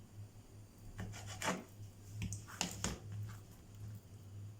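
A knife cuts boneless chicken into small pieces on a board, giving soft, faint scraping and rasping strokes in irregular bursts over a low steady hum, no voices.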